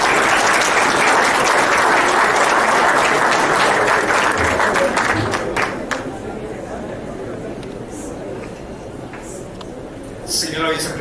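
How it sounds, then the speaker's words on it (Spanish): An audience at a book launch in Ecuador gives loud, sustained applause that thins out midway into scattered claps over murmuring chatter. "Lo recibimos con un fuerte aplauso."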